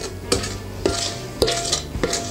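Thick cottage-cheese casserole batter spooned into a baking dish, with four evenly spaced clinks and scrapes of the spoon against the dish, close and fairly loud.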